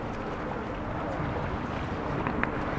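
Wind blowing over open water during a rowing session, a steady broadband rush and buffeting against the microphone, loud and continuous with no clear talking.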